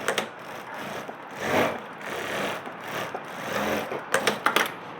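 A sewing machine runs a line of stitching on pants fabric beside a zipper, whirring steadily in short bursts with a rapid clatter of quick stitches near the end, heard close and alone.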